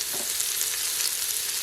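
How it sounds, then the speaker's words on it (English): Carrots hitting hot bacon fat in an Instant Pot, a close, dense crackling sizzle that runs evenly through the whole short moment without any talking. "So let's go ahead now and add in our carrots"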